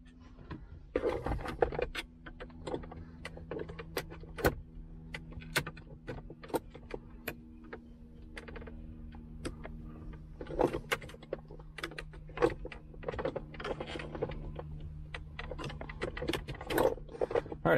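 Radio trim pieces come out of a Toyota Tacoma dashboard as a screwdriver pries them, giving sharp plastic clicks, snaps and small rattles in an irregular, close, fairly quiet series inside the truck cab.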